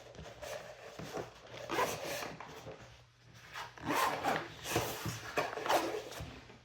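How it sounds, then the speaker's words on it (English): A zipper on a bag pulled in short repeated strokes, close and fairly quiet, with light rubbing and shuffling between pulls. "Zips just fine."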